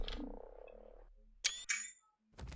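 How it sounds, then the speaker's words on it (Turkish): The Beelzebufo flying frog in the video game Ark Survival lets out short, deep croaks, followed by a sharp bright click-like burst and another croak after a brief silence, close and clear. "Uçan kurbağa."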